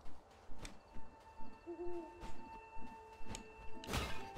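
An owl hoots from a small cage in the game Death's Door, a repeated low hoot recurring every half second or so under soft game ambience, ending with a louder thud.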